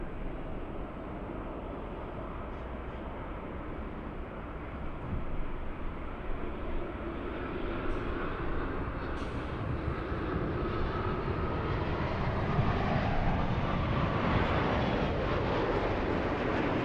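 A SkyWest airliner takes off from runway 24 left at LAX, a broad jet roar that builds steadily over many seconds and stays heavy and unbroken, with no voices over it.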